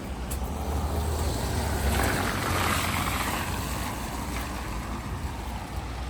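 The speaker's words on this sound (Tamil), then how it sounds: "வெள்ளம் ஓடிக்கொண்டு இருக்குது இந்த சைட்டால்" Heavy rain and floodwater rushing along a London street make a steady, loud broadband wash that holds evenly for the whole stretch, with no voices over it.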